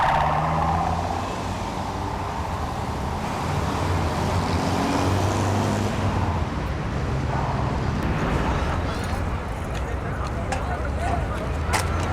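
Continuous road traffic runs beneath an open urban plaza, a steady broadband rumble of cars and buses carried throughout, with people talking over it nearby.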